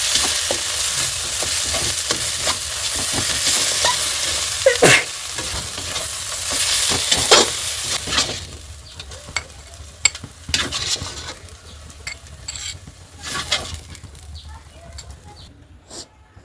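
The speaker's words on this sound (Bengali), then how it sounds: "এখন আরও 2 মিনিট ভেজে নেব। আবার একটু নাড়াচাড়া করে দিচ্ছি" Sidol chutney fries and sizzles in a pan while a spoon scrapes and stirs it in repeated short strokes, a steady hiss under the clatter, and a few birds call faintly in the background.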